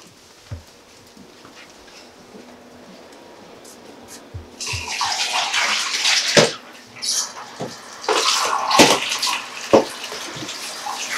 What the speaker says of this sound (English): I'm going now to get rid of the water.